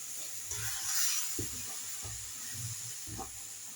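Water sizzling in a hot pan while shahi paneer cooks, a steady broad hiss with a few soft low bumps from stirring, close and moderately loud, no voices.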